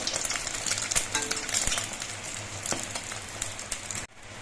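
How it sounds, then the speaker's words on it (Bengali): Batter-dipped bread slices frying in oil in a small pan, a dense crackling sizzle with scattered sharp pops and a light utensil clink, cutting suddenly quieter just before the end. "এরকম ডুবিয়ে নিচ্ছি তারপরে তেলের মধ্যে ফেলে দিচ্ছি"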